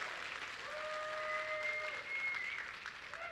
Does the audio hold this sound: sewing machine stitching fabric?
no